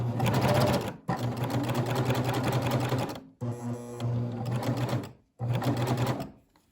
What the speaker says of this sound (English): we're just going to stitch all the way around the perimeter of our neckline.